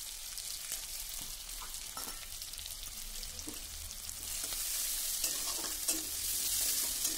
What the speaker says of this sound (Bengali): তেল ভালো করে গরম হয়ে যাওয়ার পর দিয়ে দিচ্ছি তাতে পেঁয়াজ কুচি